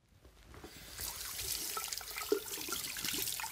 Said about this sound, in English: we're going to make sure that we wash our hands.